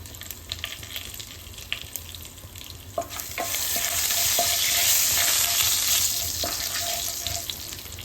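Bay leaf, nigella seeds, asafoetida and chili powder dropped into hot oil for a cauliflower, peas and potato curry, with stirring clatter and then a swelling sizzle that carries on steadily nearby.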